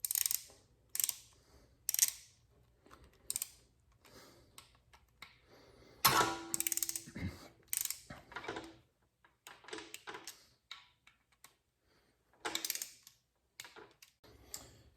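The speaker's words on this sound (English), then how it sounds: "now we'll torque to 56 inch-pounds" Torque wrench clicks and ratchets while tightening small bolts on a Subaru WRX engine during a rebuild. Sharp, close clicks and short ratcheting bursts come in an irregular rhythm, with a few louder metallic clanks midway and no talk.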